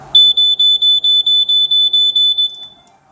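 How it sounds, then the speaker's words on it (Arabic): Loud electronic alarm set off by a magnet: a shrill, piercing high-pitched tone pulsing rapidly in even bursts for about two and a half seconds, close and harsh, then stopping. "هذا طبعا جرسه كلش عالي كلش مزعج"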